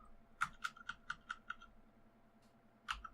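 Quiet keyboard typing in a farming-simulator game session: a quick run of sharp key clicks, then a pause and a couple more taps, faint and close with no talk.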